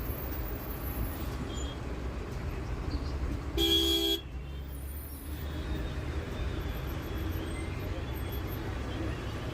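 Heavy Delhi traffic jam with a constant dense road rumble and a brief loud horn blast near the middle, other faint honks scattered in the background.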